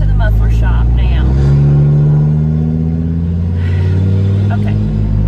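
Class C motorhome with its catalytic converter stolen, driving along with a loud, steady low engine and exhaust rumble that swells slightly, with a voice talking over it.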